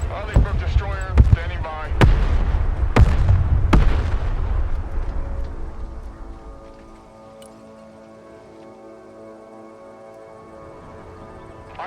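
Artillery barrage in the video game Broken Arrow: several loud, sharp booms in the first four seconds over rumbling battle noise, then fading to a quieter sustained hum.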